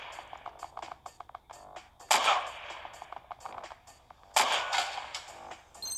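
Gunshots from a gun in the mobile video game Mr Gun, two sharp bright blasts about two seconds apart, each ringing out briefly over a busy run of quieter game clicks and effects.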